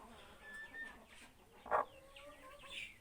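A hen clucks on a small home farmstead after laying eggs, with short, soft calls and one louder cluck near the middle. The calls are close but quiet, with no talk.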